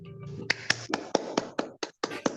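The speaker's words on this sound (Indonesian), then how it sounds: "Tepuk tangan untuk Rima." Hands clap for a student during an online Zoom class, about ten sharp, separate claps at an uneven pace, close to the microphone and fairly quiet, with a faint tonal hum at the start.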